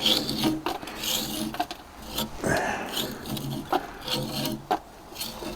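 Thick grease is scraped by hand off the engine parts of a Freightliner Classic truck, close raspy strokes repeating irregularly with short pauses between them.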